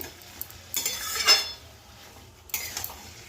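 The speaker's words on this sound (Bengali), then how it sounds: "একটু নেড়ে চেড়ে চাপা দিয়ে দেবো" A spoon stirs radish ghonto curry in a pan, a Bengali mulo ghonto with a little water left in the bottom, giving scraping clinks and soft sizzling in two close bursts, with quieter gaps between them.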